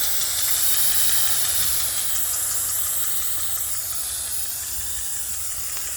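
A Gilmour 1/2 inch zinc impact sprinkler spraying water in full circle with no trips, a steady broad hiss of spray up close, fading slightly, no talk.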